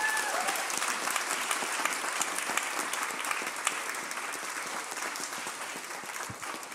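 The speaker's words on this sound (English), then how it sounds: "please give a round of applause to Freddie Bishop" An audience at a formal debating society meeting gives a round of applause for newly appointed officers: dense, steady clapping from many hands that holds evenly for about seven seconds, with no talk over it.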